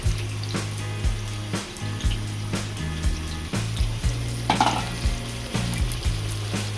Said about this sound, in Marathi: आपण ह्याला 2 मिनिटं परतू देऊ.